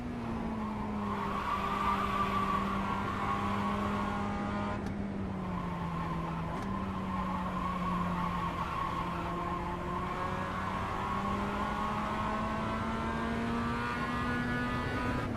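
Race car in a racing video game on the Barber track, its engine droning steadily and rising in pitch as it accelerates, with tires squealing through corners, loud and continuous with no voices.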